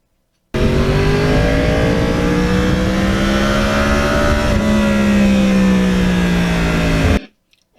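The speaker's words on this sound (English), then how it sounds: "This has the real cross-plane R1 motor." A custom 2009 Yamaha R1 with its cross-plane engine runs loud and close in one sustained revving pull, the pitch climbing, briefly dipping, then holding before cutting off abruptly.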